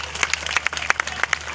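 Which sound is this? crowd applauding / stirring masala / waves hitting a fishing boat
crowd applauding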